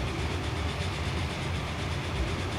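A freight train in the railway building game Transport Fever rolls steadily along the line as a continuous, even rumble with a faint clatter and no break.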